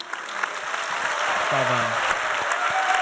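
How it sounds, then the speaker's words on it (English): An audience at a live game reveal event for Star Wars Battlefront 2 applauds in a dense, sustained wash of clapping that builds and holds steady, with a voice briefly speaking over it. "And a round of applause, please."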